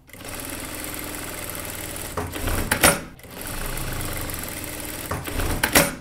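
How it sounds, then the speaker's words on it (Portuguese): Sewing machine topstitching along the yoke of a child's shirt, two steady mechanical runs of fast, even stitching, each ending in a louder clatter before a short pause. "Fazer um pesponto pela pala."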